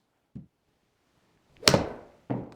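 A golf ball is struck with a 2024 Callaway Apex Ai20 iron: one sharp, loud crack with a brief fading ring, framed by a couple of soft thuds before and after.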